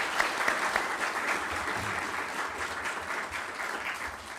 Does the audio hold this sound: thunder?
no